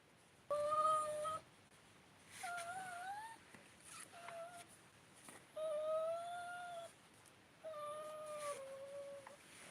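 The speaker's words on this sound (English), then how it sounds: "That's my dog, Lilo." A pet dog whines indoors in a run of separate high, wavering cries, four or five distinct bursts with short pauses between them, close and fairly faint.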